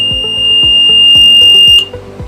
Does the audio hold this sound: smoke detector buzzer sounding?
yes